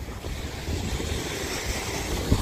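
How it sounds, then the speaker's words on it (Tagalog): Strong wind buffets the microphone along a shoreline as large ocean waves surge and break in steady, continuous roar, with a heavier thump near the end. "napakalakas pa ng hangin at yan o, ang alon oh"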